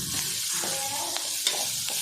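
Onions fry with sambar powder and chopped coriander in a pan over a low flame, giving a close, steady sizzle broken by a few brief scrapes and clinks of a stirring spoon.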